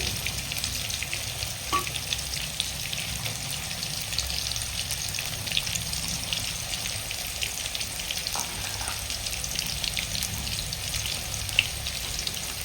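Spice masala with potatoes fries in a pan after a splash of water goes in, producing a dense, steady, close sizzle with a few faint clinks and no talk.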